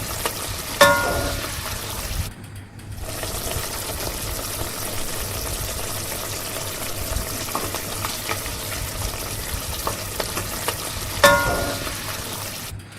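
Sambar with fresh coriander simmers in a pot, a steady broadband bubbling and sizzling hiss running throughout, with a brief dip near the start and a couple of sharp clinks from a utensil.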